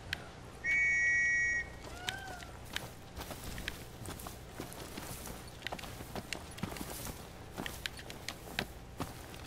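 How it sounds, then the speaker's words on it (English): A short, clear whistle to call a Chocobo in the video game Final Fantasy XV, then a steady run of footsteps or clip-clopping strides, with faint game sounds and no talking. "Call Chocobo."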